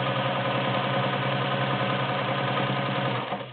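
A Kenmore Model 1690 convertible sewing machine runs a zigzag stitch, giving a smooth, steady mechanical whir with a fast, even pulsing rhythm, close and continuous with no talking.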